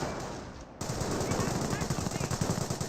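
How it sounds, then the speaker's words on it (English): Gunfire hits Grenadier infantry in the WWII strategy game Company of Heroes, a fast rhythmic burst of machine-gun fire rattling steadily after a brief dull lull, loud and close, mixed with game battle noise. "Grenadiers are receiving quite a bit of fire there."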